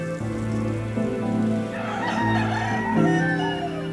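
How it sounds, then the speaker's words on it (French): Prat breed chickens, also called Pota Blava, crow and cluck on a farm in the Baix Llobregat agrarian park, several overlapping calls close by over a steady background with a patter like rain. "On y élève aussi un animal unique au monde, le poulet de la race Prat, également appelé Pâte bleue."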